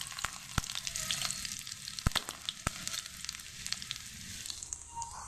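Garlic and nigella seeds sizzling in hot oil in a wok, a continuous bright crackling hiss dotted with sharp pops and spits, close and fairly quiet with no voices.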